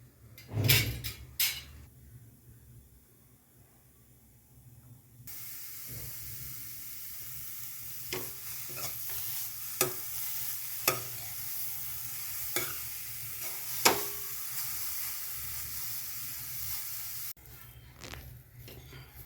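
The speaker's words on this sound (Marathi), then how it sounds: "आता थोडं ह्याच्यावर झाकण ठेवून आपण तो शिजवूया" Grated carrot cooks under a lid in a pan for carrot and garden cress seed ladoos, giving a steady, fairly quiet sizzle and hiss with occasional stirring clinks and scrapes, alone without talk.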